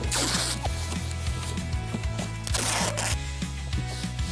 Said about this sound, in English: Let's tape this right here.